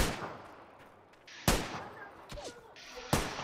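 Gunfire in a multiplayer shooter video game: several sharp, loud shots crack at irregular intervals, two especially close and punchy, over a low background rumble with faint distant pops between them.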